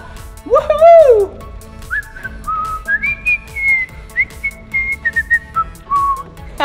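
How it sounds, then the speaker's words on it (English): A melodic whistle rises and falls in sliding notes, then holds longer wavering tones close up, with a few soft background noises. "You heard my whistle?"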